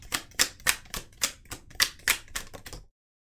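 Tarot cards are shuffled and drawn in about ten crisp, close snaps at a quick even rhythm, ending abruptly in silence.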